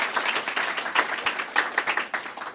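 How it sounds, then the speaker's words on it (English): Listeners at a writers' reading clap for the authors, a short burst of close, crisp hand claps with uneven rhythm that stays dense for a couple of seconds. "let's first just give another round of applause to our writers"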